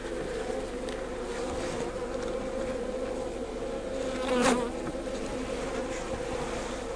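Honey bees drone steadily around an open Langstroth hive while frames are lifted out, a dense continuous buzz with one louder bee passing close midway through.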